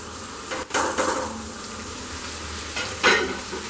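Chicken coated in ground masalas fries over a high flame for dhaba-style chicken kosha, with a steady close sizzle and a few sharp scraping bursts of a spoon stirring against the pan.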